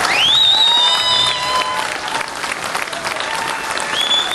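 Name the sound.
audience applause for the sheriff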